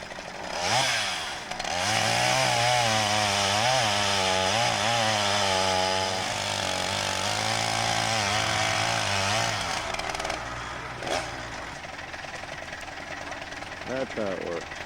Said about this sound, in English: There's Margaret working on the chainsaw